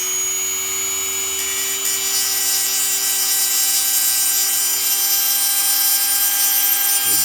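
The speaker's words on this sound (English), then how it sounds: "We grind a groove right into the lug nut." A Dremel rotary tool grinds a groove into a wheel lock lug nut on a Ford truck, giving a steady high-pitched whine that holds constant and alone throughout.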